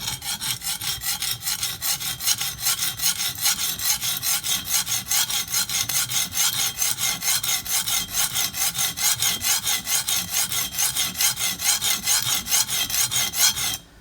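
A knife blade scraped over a very coarse sharpening stone at a steep angle, producing a fast, rhythmic, gritty rasp of back-and-forth strokes that continues steadily for about fourteen seconds, close up with no voices.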